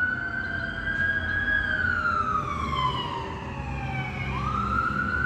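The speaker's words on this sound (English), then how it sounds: "It's fire trucks." Fire truck sirens wail loudly and continuously, the tone sweeping slowly up and down in long glides over a steady rumble of road traffic, with no talking.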